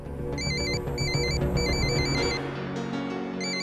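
An electronic phone ringtone chirps in a repeating warbling pattern of short bursts, fairly loud and close over a low musical background, signalling an incoming call in a Hindi TV serial scene.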